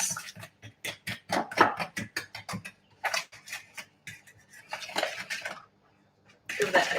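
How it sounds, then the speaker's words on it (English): A utensil beats wet cookie dough ingredients in a bowl, making a quick run of close clinks and taps against the bowl that pause and resume, loud and free of speech. "Give that a good mix."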